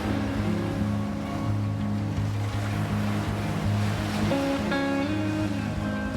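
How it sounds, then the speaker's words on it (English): Strong ocean waves breaking near massive rocks at the northern tip of Bondi Beach in Sydney, a continuous loud roaring wash of surf with a low rumble, steady throughout with no voices. "close-up views of surfers riding strong waves near massive rocks"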